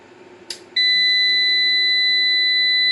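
After a brief click, a POWMR power inverter under repair lets out a continuous high-pitched beep that holds steady and loud.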